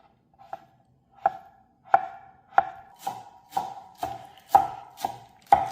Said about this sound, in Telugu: ఫైన్ చాప్ చేయాలి.